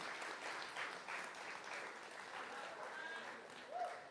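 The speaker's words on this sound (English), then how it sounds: "The class of 2025, if we can congratulate them again with applause." An audience in a school auditorium at a primary school graduation applauds the class of 2025, a faint, even wash of clapping that holds at a steady level throughout.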